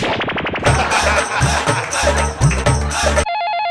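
A telephone rings in a comedy sketch scene. The bursts of ringing are loud and mixed with dramatic music stings, and a steady electronic tone follows at the end.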